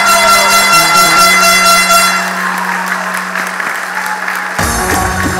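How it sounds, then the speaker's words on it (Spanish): Loud crowd applause for Miss Earth Puerto Rico pageant candidates, with sustained blaring air horns sounding over the clapping, briefly dropping out before the horns return near the end. "Así que un fuerte aplauso para todas las candidatas al Miss Earth Puerto Rico."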